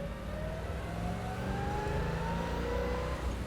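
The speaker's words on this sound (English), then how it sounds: "I'm always listening to that motor, listening to that 4-barrel kick in, listening to that exhaust" A 1970 Chevrolet Chevelle convertible's engine with a four-barrel carburetor and a fairly quiet exhaust rumbles steadily from inside the moving car, its pitch rising gently as it accelerates.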